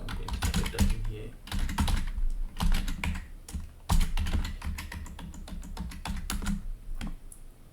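Typing an administrator password on a computer keyboard while joining a Windows Server web server to a domain, with quick irregular clusters of key clicks, close and distinct, pausing briefly between bursts.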